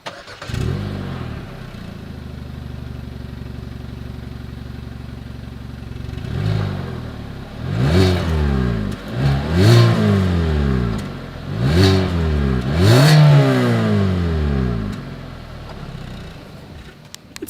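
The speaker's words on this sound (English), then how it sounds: "As always, here is that exhaust clip." A 2021 Hyundai Venue idles with a low exhaust drone, then its engine is revved repeatedly, five or six sharp rising blips that fall back to idle, heard close at the tailpipe.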